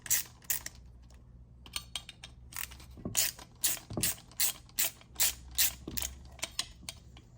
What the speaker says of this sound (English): You're gonna want to unbolt these 3 bolts.